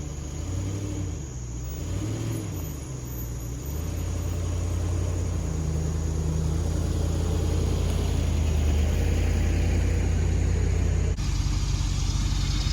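A neglected Range Rover's engine running as it is driven out of a muddy spot, a steady low rumble that climbs and holds louder as it pulls away.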